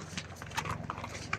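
Horse hooves clip-clop on a hard surface at a steady walking pace on a mountain pilgrimage trail near a glacier, moderately close, with faint outdoor ambience and no talking.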